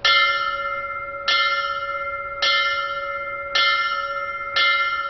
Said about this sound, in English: When the bells ring, 3 sets of 5 rings.